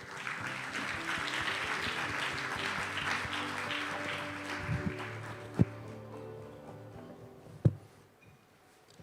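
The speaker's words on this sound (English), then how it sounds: "Please welcome him with a big round of applause." Audience at the Busan Global Partnership Forum applauding, a steady crowd clapping for several seconds that gradually dies away, followed by a couple of isolated loud knocks in the quieter room.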